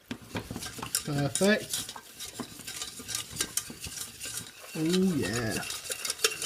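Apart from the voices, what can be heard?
mixing flour into melted butter to make a roux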